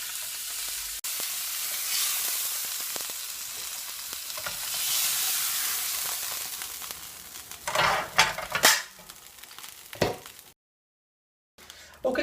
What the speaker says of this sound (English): those steaks have been cooking for about 4 minutes